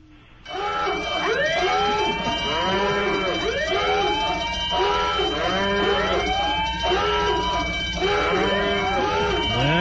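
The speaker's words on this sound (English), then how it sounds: "Is that a cow in there?" A cow moos in the background of a caller's phone line on a 2007 radio call-in show, a long wavering bellow repeating over and over, heard loud and steady through the narrow telephone sound.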